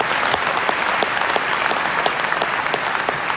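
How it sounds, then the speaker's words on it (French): Packed hall audience at a board-sports film night in Biarritz applauding Gaspard Ravanel, a dense, loud, steady burst of many hands clapping with no speech over it. "je vous présente Gaspard Ravanel pour l'applaudir"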